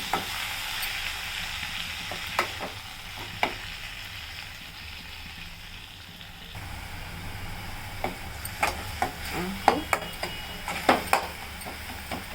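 Fenugreek leaves fry lightly in a pan for an Andhra-style dal. A steady low sizzle runs throughout, with a clink of the spoon and scraping stirs now and then that grow livelier toward the end. No one speaks.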